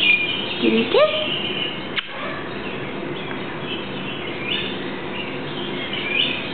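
An Alexandrine parakeet gives sharp, rising chirps and a few squawks close by, with quieter calls and indoor background noise continuing between them.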